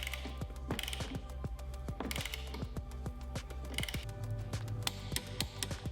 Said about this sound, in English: we're gonna get a torque wrench and we're gonna tighten our 4 base clamp bolts up to 30 foot-pounds of